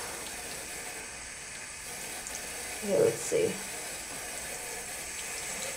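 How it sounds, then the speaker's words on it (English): A bathroom sink tap runs a thin mix of warm and cold water in a low, steady hiss throughout, while a short spoken remark rises briefly over it in the middle. "just turn on my tap tiny bit, a little bit of the warm and a little bit of the cold"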